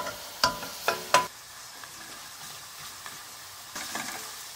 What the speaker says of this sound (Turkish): Soğan biraz kavurduktan sonra biber salçası ve domates salçası. İyice karıştıralım.